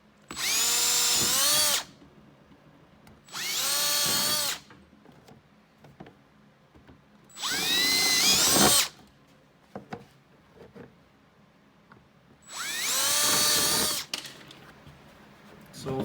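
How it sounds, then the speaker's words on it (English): Power drill boring four fastener holes for a Promax induction hood on a ProClimb/ProCross Arctic Cat snowmobile, four loud whining bursts of about two seconds each, separated by quiet pauses with faint handling noise. "now we're going to drill out the 4 holes for the 4 fasteners in the back"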